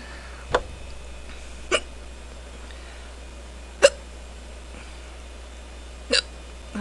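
A woman's hiccups, four sharp separate hics spaced a second or two apart over quiet room hum, near and clear.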